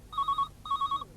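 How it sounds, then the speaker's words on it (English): A telephone rings with two electronic trilling bursts, each a rapid warble, close and clear with a short pause between them. "That's the phone. I'll get it."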